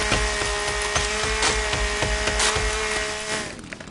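A chainsaw in a video game grinds steadily through a tree with a buzzing, rhythmic chop, close and loud, then cuts off at the end.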